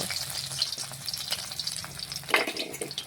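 Fish frying in hot oil in a home kitchen, a steady close sizzle and crackle with a brief louder spatter burst near the end, no voices.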